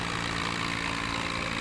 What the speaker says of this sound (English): Oh wow, listen to that engine just...